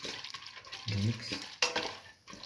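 Red lentils and chopped bottle gourd being stirred in a pan for masoor dal, with soft scraping and shuffling strokes over a light sizzle, one louder clatter midway, no talking.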